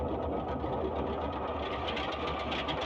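Loud, steady drone of a Boeing 247D radial engine running in a flight simulator, a rough rhythmic chugging that stays constant and close with no talking.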